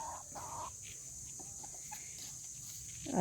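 Backyard chickens cluck faintly in the distance over a steady hiss, with a few soft calls scattered through and a louder, nearer cluck at the very end.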